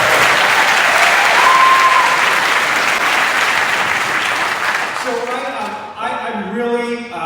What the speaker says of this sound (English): a big round of applause to our amazing state senator